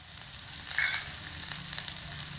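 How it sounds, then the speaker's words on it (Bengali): Capsicum and potato fry with ginger in a pan, a short steady sizzle with a stirring scrape near the middle, close and moderately loud, no voices. "আদা দিয়ে এখানে আমার ক্যাপসিকাম আলু খুব ভালো করে 1 মিনিট মতো কষিয়ে নিয়েছি"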